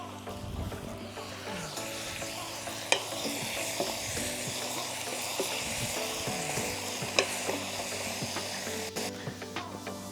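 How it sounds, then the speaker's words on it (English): Ground spices and rice are stirred in a pot for a one-pot plov cooked outdoors, with a steady scraping stir over a soft sizzle and occasional sharp clinks of the spoon against the pot. "I'm going to mix it up."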